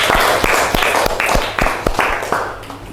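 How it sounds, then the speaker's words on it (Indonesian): A group claps for classmates who just presented, loud close clapping with distinct individual claps in an irregular rhythm, tapering off slightly toward the end. "Oke, beri tepuk tangan untuk kelompok 2."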